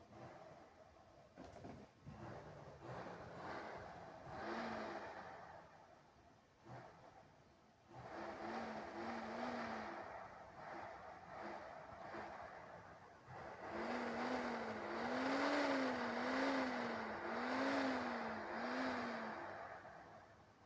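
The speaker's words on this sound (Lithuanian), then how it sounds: "Užvedė variklį, gazuoja." A car engine starts and revs in repeated bursts, rising and falling roars with pauses between them, moderately loud and close with no talking.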